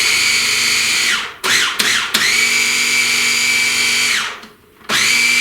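A blender pulses a chocolate cheesecake mixture in loud motor bursts: a steady whirring run, two short stop-start taps, another long run, a brief pause, then the motor starts up again. No talking.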